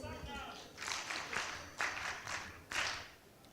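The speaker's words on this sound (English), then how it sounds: "A very huge round of applause for Barbara." Scattered clapping from a forum audience greets a panelist, coming in several uneven bursts at moderate loudness over a room murmur, with a voice briefly present at the start.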